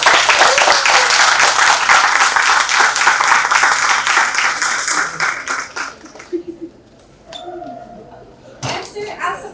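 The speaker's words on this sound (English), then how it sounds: "let's give a very big round of applause" Loud audience applause rings out after a lecture on treaties and indigenous politics in Mindanao and Sulawesi, then thins out into scattered claps over the final seconds as voices begin talking.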